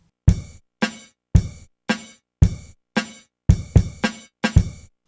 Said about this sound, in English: So just the kick and the snare sounds like this.